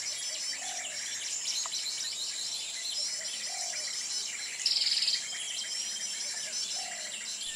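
Small songbirds chirp in the open against a constant hiss of insects, with a few soft repeated calls and one brief, sharper trilling burst midway.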